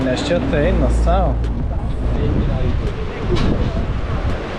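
Strong wind on the Madeira coast buffets the microphone with a steady low rumbling roar that runs under people talking throughout.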